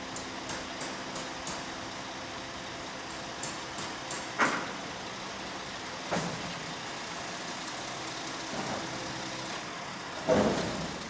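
A truck's hydraulic gear lowers an empty concrete silo outdoors, with a steady engine drone, a few metallic knocks, and a louder clank near the end.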